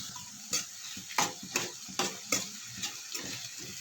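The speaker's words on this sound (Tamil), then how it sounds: "கொஞ்சம் நேரம் நல்லா வதங்கட்டும்." Bottle gourd sautéing in a pan for chutney: a soft steady sizzle broken by a series of sharp, regular spoon-against-pan scrapes and taps, close and fairly quiet, with no talking.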